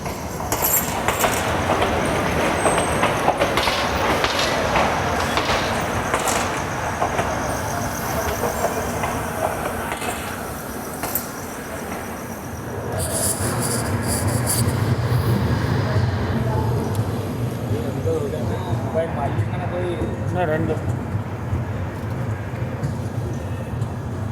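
Hazur Sahib Nanded Hadapsar Express pulling out of Jalna station, a steady low rumble and rattle of the moving train with clattering wheels, continuous throughout with a heavier low-frequency surge in the second half and faint voices in the background.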